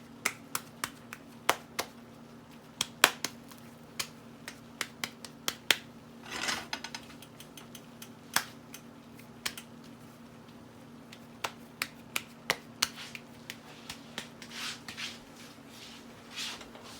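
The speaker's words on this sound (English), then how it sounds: "So I'm just gonna pat myself out a little tortilla" Homemade tortilla dough is patted out by hand, making a series of sharp, light slaps in irregular bursts, close and clear over a faint steady hum.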